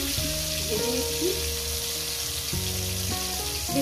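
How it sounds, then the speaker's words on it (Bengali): Tomatoes fry in hot oil with a steady crackling sizzle, close and continuous, with occasional utensil taps and faint tonal hum in the background. "দেখতেই পাচ্ছেন আমি কত সুন্দর করে টমেটোটা আমি ভেজে নিচ্ছি।"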